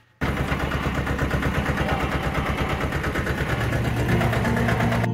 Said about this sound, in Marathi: तर फन्नी जोडून झाली आणि आता शेतात जायचे ट्रॅक्टर घेऊन.